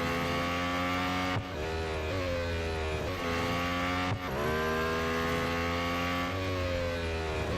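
In the racing game Real Racing 3, a Lotus race car's high-pitched engine screams loudly and continuously, climbing through the revs with sharp dips at each gear change.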